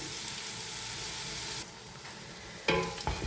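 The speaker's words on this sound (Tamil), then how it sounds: "வந்து நல்லா வதங்கணும் தக்காளி பழம். நல்லா வதங்கத்துக்கு பார்ப்போம்." Tomatoes sauté and sizzle in a pan as they are stirred while mutton biryani is being made, a steady close frying hiss broken by a few clattering scrapes of the spoon near the end.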